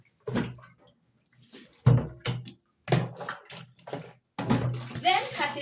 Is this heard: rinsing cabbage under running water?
yes